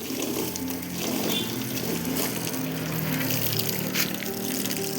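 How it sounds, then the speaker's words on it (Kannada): Water spraying onto a car during a home car wash, a steady close hiss and splash that runs without a break and with no talking. "ಕಾರ್ ವಾಶ್ ಮಾಡ್ತೇನೆ ಈಗ."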